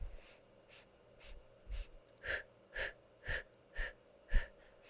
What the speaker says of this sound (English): Nice strong breaths. Again, inhaling for 5 and exhaling for 5.